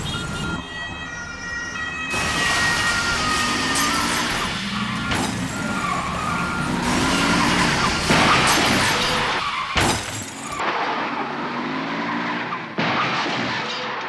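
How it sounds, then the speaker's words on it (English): Wailing ambulance sirens mix with skidding tires and loud crashing, shattering impacts as two ambulances collide and explode, then abrupt cuts between bursts of chaotic noise. "2 ambulances just drove into each other and exploded"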